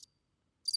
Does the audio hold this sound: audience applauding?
no